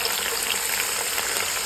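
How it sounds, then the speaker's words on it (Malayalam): Pieces of coconut fry in hot ghee while a pumpkin halwa is being made, giving a steady, close, even sizzle with no pauses and no voices. "തേങ്ങ അങ്ങനെ പൊരിച്ച് കോരി എടുക്കുകയാണ്."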